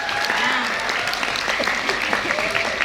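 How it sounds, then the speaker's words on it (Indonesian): Lively applause from an audience at a nursing profession talk, steady clapping throughout with a few voices briefly audible underneath. "kita berikan lagi tepuk tangan yang meriah ya"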